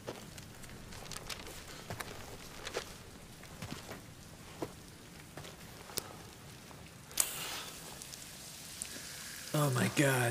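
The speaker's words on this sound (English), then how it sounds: "Oh my god, the rain" Rain falls in the video game Death Stranding as a steady, soft patter with scattered sharper drop hits, swelling into a louder, brighter wash near the end.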